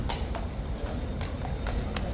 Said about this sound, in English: They're going to bring the horse in.